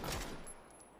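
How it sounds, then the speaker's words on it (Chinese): Gunfire in a competitive battle-royale esports match, a short burst of rapid shots fading into distant scattered cracks, faint and brief. "听到这个枪声"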